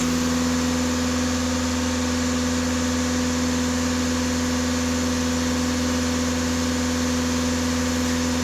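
Steady, close engine drone of a VW Golf 7 Alltrack with a differential pressure sensor fault, holding an even raised pitch throughout without talk.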